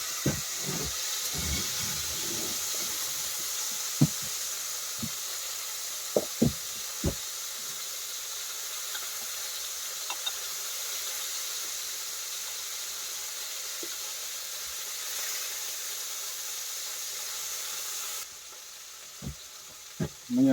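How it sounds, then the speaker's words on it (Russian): Chicken sausages sizzle in a pan over an outdoor fire during an autumn overnight camp in a cold, damp forest, a steady frying hiss throughout with scattered knocks and clicks of utensils, ending in a quieter stretch. "Десять минут обжариваю колбаски. Куриные, они быстро жарятся."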